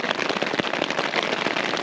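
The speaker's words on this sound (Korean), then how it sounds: "빗소리가 좋네요." Rain patters densely on a tarp stretched over a bivy sack on a windy mountain ridge, a close, continuous crackling of drops with no talking.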